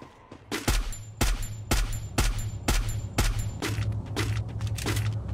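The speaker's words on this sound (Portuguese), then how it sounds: "Tem muito cara trocando tiro aqui" Rapid gunfire exchange in the mobile battle royale game Free Fire: repeated loud, sharp shots in quick bursts, roughly every half second, with booming low thumps and a busy background of more distant fire, no voices.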